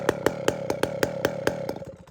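A chainsaw fitted with a bear claw muffler, running with a low jet problem, bursts out in a rapid series of about ten evenly spaced sharp pops that slow and fade near the end, close and alone.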